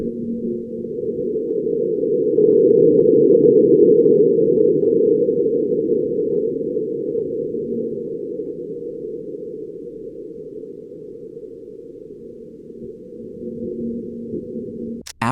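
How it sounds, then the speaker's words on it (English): Martian wind and a marsquake captured by NASA's InSight lander: a steady, deep, muffled rumble that swells early, then slowly eases and holds low throughout, with no voices. "we hear the winds of Mars blowing, and then this sound was caught, and it is believed that it was the Mars quake."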